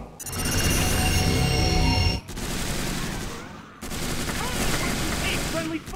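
Dense bursts of automatic gunfire from the video game Tactical Ops Monster Attack, loud and sustained in three long volleys broken by two brief pauses, with voices calling out beneath the shooting.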